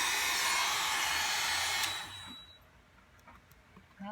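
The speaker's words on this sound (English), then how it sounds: "So I dry them, I'll quick dry them." A hair dryer blows loud and close to dry stencil paint on canvas, a steady roaring whoosh for about two seconds before it switches off and winds down into quiet room tone with faint clicks.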